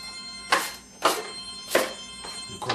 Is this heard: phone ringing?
yes